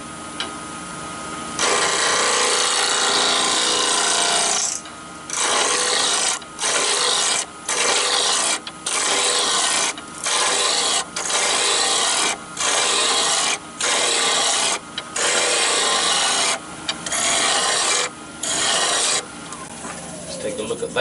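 A woodturning lathe spins a small yew hollow form at 1700 RPM as a cutting tool rasps against the wood in loud, regular bursts broken by short pauses, close up with no talk.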